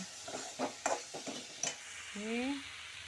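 Mango pieces softening in hot oil in a pan, with a faint steady sizzle under several sharp stirring scrapes and clinks of a utensil, then a short rising whistle-like tone near the end.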